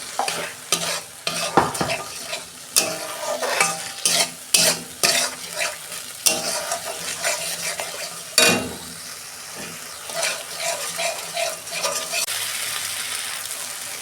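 A spoon scrapes and stirs a spice paste of poppy seeds and cashews frying in oil with cooked-down tomato, producing irregular clattering strokes over a steady close sizzle.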